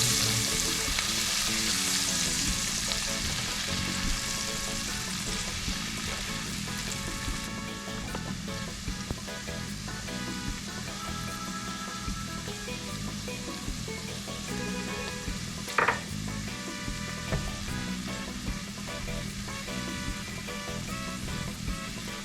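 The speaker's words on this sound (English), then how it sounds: "go ahead and add your fresh vegetables. You can start with your bell peppers, as well as your onions, and cook this for about 2 minutes" Fresh bell peppers and onions frying in melted butter in a skillet, a steady close crackling sizzle that holds for the whole stretch, with one brief clink partway through and no talking.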